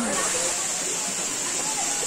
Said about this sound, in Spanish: Ya empezamos a escuchar el sonido del agua de las cascadas